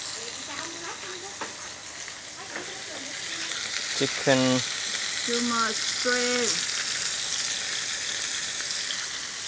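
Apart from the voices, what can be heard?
chicken and shrimp sizzling while frying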